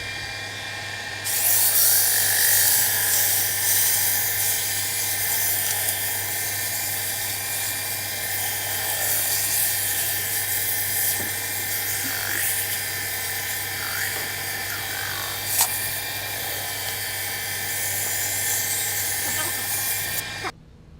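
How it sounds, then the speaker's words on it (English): Sandpaper at about 240 grit worked against a turned wooden mini baseball bat spinning on a lathe, a steady close hiss with a constant motor hum underneath running for about twenty seconds. "The next thing I'll do is go ahead and take it down with some sandpaper"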